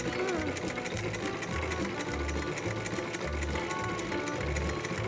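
A sewing machine stitches Zodiac vinyl upholstery with a clear top coat, producing a loud, close, rapid needle chatter broken into short rhythmic bursts of steady stitching.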